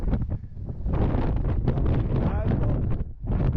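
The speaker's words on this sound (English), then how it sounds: "A bit windy." Heavy wind buffets the microphone during an outdoor trail ride near ruins, a loud, continuous roar that swells and dips, briefly easing before surging again.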